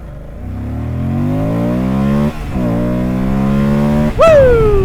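A 2024 Moto Guzzi Stelvio motorcycle accelerates hard through the gears, its engine revving up in long rising sweeps with brief dips at the shifts, ending in a sharp high rev as it lifts into a power wheelie, loud and close.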